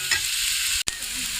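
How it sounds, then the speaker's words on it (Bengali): Onion frying in a little oil in a wok, a loud continuous sizzle close up with a brief stirring knock partway through. "তেল দিয়ে পেঁয়াজটা ভাজা ভাজা করে নিতে হবে।"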